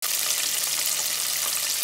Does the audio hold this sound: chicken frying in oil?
yes